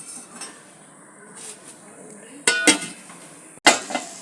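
A lid goes onto a pan of Bengali bhola fish curry with two sharp metallic clanks, one midway and a louder one near the end, after quieter kitchen clinks.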